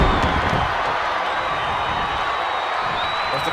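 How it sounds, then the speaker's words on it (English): Steady crowd roar from a wrestling arena in WWE 2K20, a continuous loud wash of cheering and whooping filling the whole stretch without pause. "There's the crowd electric for this match."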